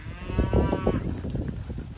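Calves being weaned with wean rings, cattle mooing on a farm in a couple of drawn-out, close calls overlapping within about two seconds.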